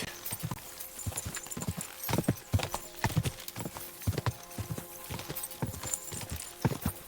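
Hooves clip-clop at a steady walking pace in the video game Kingdom Come: Deliverance 2, regular thudding steps close by over a faint background hum.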